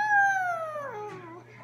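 A toddler imitates an elephant with a single high, trumpeting vocal call that slides downward and trails off, close and clear.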